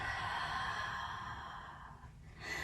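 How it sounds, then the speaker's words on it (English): A full, drawn-out exhale during a yoga flow, a steady breathy rush of air lasting about two seconds, close and fairly soft, easing off before a fresh breath begins at the end; no talking. "And a full breath out."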